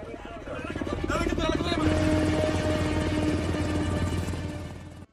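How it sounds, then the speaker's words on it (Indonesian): Several helicopters' rotors thump loudly and steadily nearby, a constant droning chop with engine whine and a faint voice underneath. "Beberapa helikopter mengepung Scotchy"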